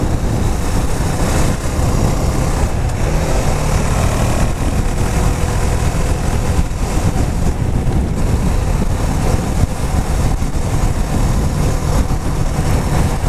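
A KTM Duke 390 motorcycle cruising on a highway, its engine droning steadily and loudly throughout, buried in heavy wind rush with no pauses.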